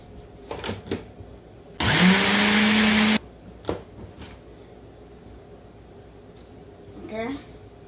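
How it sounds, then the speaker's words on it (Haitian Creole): A blender whirs through carrots in one loud, steady burst of about a second and a half, with someone speaking French before and after it amid small kitchen knocks. "nous pouvons blender"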